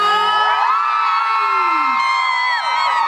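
A crowd at a Watsons Pride Month event in Thailand whoops and cheers loudly and continuously, with high excited shouts rising over a steady roar of voices.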